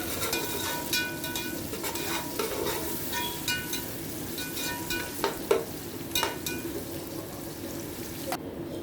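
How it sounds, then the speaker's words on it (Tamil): Steady sizzling and frying of onions sautéing in hot oil in a pan, with occasional scraping and stirring clicks throughout, no voices. "அதையும் சேர்த்துட்டு எல்லாத்தையும் நல்லா வதக்கிக்கலாம்"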